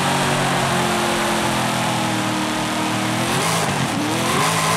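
A 1969 Dodge Charger R/T spinning its tires in the racing game Forza Horizon 5, loud sustained engine roar with tire squeal and a pitch shift near the end, continuous and up front with no talking.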